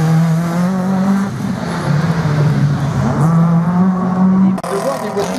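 Rally cars at the Saint-Lô slalom, an engine droning and rising and falling in pitch as a car accelerates along the course, loud and fairly close, with faint talk in the background.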